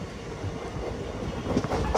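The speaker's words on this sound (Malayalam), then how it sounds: "ചെങ്ങന്നൂർ റെയിൽവേ സ്റ്റേഷനിലേക്ക് ട്രെയിൻ എത്തിക്കൊണ്ടിരിക്കുകയാണ്" The Sabari Express, a passenger train running from Palakkad to Thiruvananthapuram, rolls into Chengannur railway station with a steady low rumble and the faint clatter of wheels on rails, heard up close from on board.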